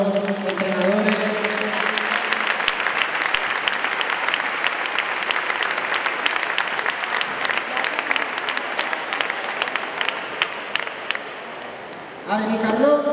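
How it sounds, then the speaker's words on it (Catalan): Audience applause for the coaches at a basketball club's season presentation in Benicarló, a loud sustained roar of clapping from a large crowd lasting many seconds, bracketed by a speaker's voice at the start and end. "Un fort aplaudiment per a tots els entrenadors, entrenadores."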